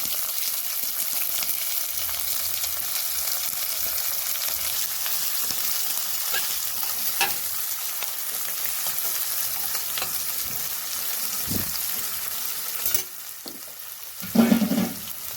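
Chopped onions and green chillies frying and being stirred in a pan with cumin seeds, a steady close sizzle with repeated scraping strokes of the spoon, easing off near the end after a few louder clatters.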